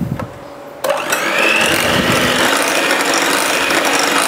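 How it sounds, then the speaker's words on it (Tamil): Electric beater whisking eggs for a Boost cake batter, a steady loud whirring motor hum that kicks in sharply under a second in and runs continuously without pause. "முட்டை வந்து நல்லா வெள்ளை கலரில் வர அளவுக்கு நம்ம பீட் பண்ணிப்போம்"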